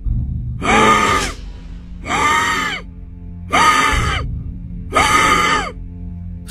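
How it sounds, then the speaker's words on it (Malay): Four labored, wheezing gasps of breath, each a long rasping inhale separated by short pauses, loud and close, evoking a sick patient struggling to breathe in a quiet hospital at night. "Suara dia tarik nafas semput."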